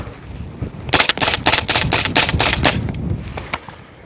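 Suppressed Custom Aero EPC 9 AR9 carbine with a tucked suppressor and Kynshot buffer firing a rapid string of about eight shots, sharp evenly spaced cracks close up.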